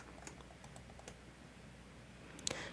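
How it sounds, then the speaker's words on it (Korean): Keyboard shortcut presses while working in ZBrush: a few soft, quiet key clicks spaced across a near-silent stretch, with a sharper cluster of taps near the end. "컨트롤 D 눌러서 컨트롤 D 4배 6까지 전 올려주도록 할게요"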